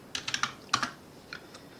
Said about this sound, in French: Là, on va taper Alien.